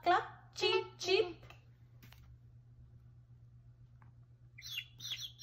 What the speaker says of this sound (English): can you press the chick's sound?